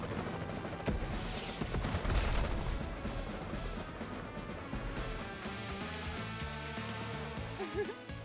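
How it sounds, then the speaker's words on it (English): A battle copter opens fire on an enemy tank in Advance Wars, a dense stretch of rattling shots and crashing impacts layered over game music, steady and loud throughout. "Move your battle copter next to it and fire."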